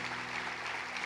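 A church congregation claps for Jesus in a brief, dense burst of steady, loud applause with no gaps and no voices over it.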